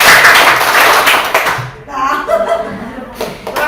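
A group claps in a rhythmic pattern as a classroom ice breaker, with bursts of close, sharp hand claps and taps that thin out midway and then return, and a little voice and laughter mixed in.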